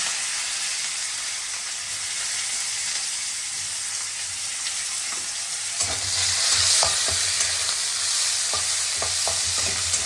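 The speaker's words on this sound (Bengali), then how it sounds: "এইভাবে পেঁয়াজটা অল্প ভেজে নেব।" Chopped onion frying with panch phoron in hot oil, a steady close sizzle and hiss throughout, turning louder and denser partway through, with scattered clicks of stirring against the pan.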